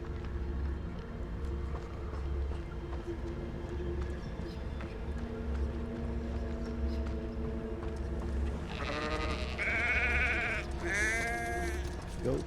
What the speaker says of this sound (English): Goats, be quiet.